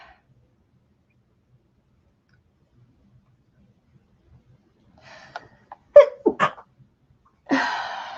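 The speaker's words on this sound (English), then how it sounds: "I feel a sneeze coming on." A single sharp sneeze bursts out after a near-silent stretch, followed by a short breathy sound, close to the listener.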